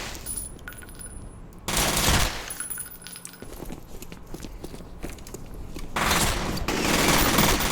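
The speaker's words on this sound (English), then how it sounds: "You can understand that I shoot in the wall from my behind as I turned behind." Video game gunshots rendered with DirectSound3D positional audio, bursts of sharp shots and rapid fire mixed with thuds and footsteps, some nearer and louder, others distant.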